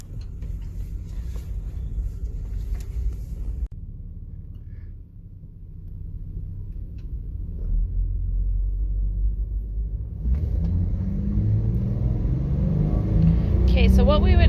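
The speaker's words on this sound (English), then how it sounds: "So we're going to go ahead and go on a test drive and see where we're at." A 1996 Lexus LX450 with a lean-running engine drones from inside the cabin on a test drive, a low steady rumble that rises as the SUV accelerates, with a voice talking over it.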